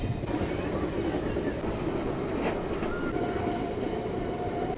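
A local train bound for Puri runs along the tracks with a loud, continuous rumble heard from inside the carriage, with faint wheel squeal and a brief metallic whine toward the end.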